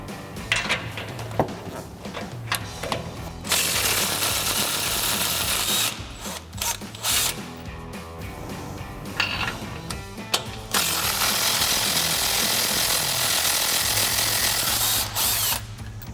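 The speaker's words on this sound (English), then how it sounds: "I'm gonna take my 15 millimeter, my 3/8 gun, loosen these up" 3/8 impact gun with a 15 mm socket loosening sway bar nuts on a Ford F-250, loud bursts of rattling, whirring tool noise with clicks and pauses between runs, close by.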